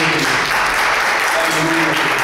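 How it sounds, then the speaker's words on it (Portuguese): A church congregation claps in praise during a worship service, the applause loud, dense and continuous, with a voice faintly heard beneath it. "Dê uma salva de palmas ao Senhor."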